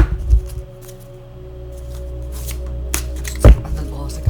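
Tarot cards of an animal-themed deck being shuffled by hand, soft papery riffles and slides with a few sharper taps and handling knocks, close by and fairly loud.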